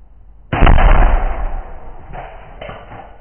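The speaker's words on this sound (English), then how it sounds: "We've got continuity on Pyro Channel 1, so that's what we're gonna fire here." A pyrotechnic charge fires on channel 1 during a parachute pop test for a model rocket's drogue chutes, a sudden loud bang followed by a decaying rush and rustle, with two fainter bumps afterward.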